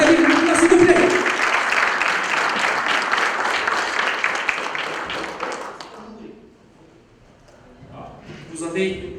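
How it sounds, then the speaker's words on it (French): A thunderous burst of audience applause greets a politician arriving to speak at a discussion event, loud and dense at first, then thinning and fading out before a voice begins talking over light room noise. "sous un tonnerre d'applaudissements"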